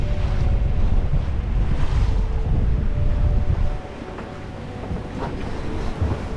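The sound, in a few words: wind and ocean waves while sailing solo to windward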